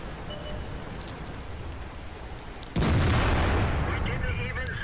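Tank gun in World of Tanks, T57 heavy tank, a single loud booming shot about midway through that hangs on as a sustained roar over the game's engine background.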